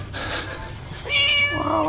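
Cat meowing in the video game Scary Teacher, a clear rising meow with strong harmonics in the second half, loud and near, following softer game background sound.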